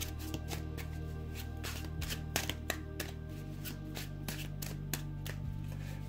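Tarot cards shuffled and drawn for a reading, a steady run of close, crisp card flicks and slaps repeating through the whole stretch over a constant low hum, with no voices.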